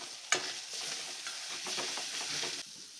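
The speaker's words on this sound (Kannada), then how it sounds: "ಈಗ ಇದೆಲ್ಲ ಮಿಕ್ಸ್ ಮಾಡ್ಕೊಳ್ಳೋಣ." A spoon stirs and mixes ground pepper and cumin in a cooking pan, giving steady scraping and shuffling strokes over a faint sizzle, with one sharper knock near the start and no talking.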